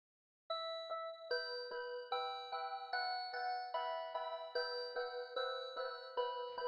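A dark ambient melody loop from a loop kit plays in FL Studio. Bell-like tones ring in a steady repeating pattern, clean and fairly quiet, and begin after a short silence. No one talks.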